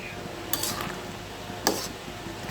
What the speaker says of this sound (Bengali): একটু নেড়ে চেড়ে দিচ্ছি।